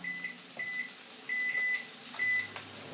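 A microwave oven cooking red potatoes gives a row of short, clear electronic beeps, four or five evenly spaced chirps over a low running hum, close by and moderately loud.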